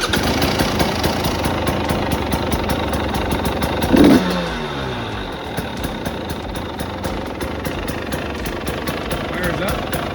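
A 2-stroke KTM snowbike engine with factory exhaust fires up and idles in a rapid, buzzy, uneven putter, close and loud, with a brief spoken voice around the start and the idle continuing steadily afterward.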